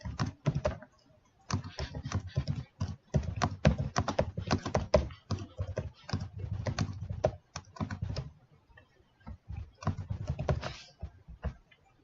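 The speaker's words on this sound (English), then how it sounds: "so I'm going to type in all the numbers." Numbers are typed on a computer keyboard in quick, uneven bursts of close key clicks with short pauses between runs, nearby and fairly quiet, with no speech.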